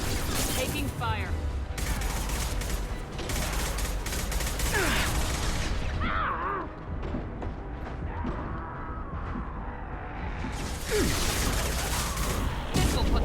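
Dense, continuous gunfire and combat noise from the video game Mass Effect 2, loud throughout with bursts of shots, impacts and mechanical effects, briefly easing mid-way before intensifying again.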